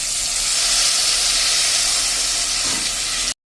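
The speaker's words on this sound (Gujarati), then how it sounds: "હવે આમાં આપણે જે બેટર તૈયાર કર્યું છે ને એ નાખી દેશું આ રીતે જ." Gram-flour batter for a potato snack hits a hot pan, giving a loud, steady sizzling hiss that holds evenly before cutting off abruptly near the end.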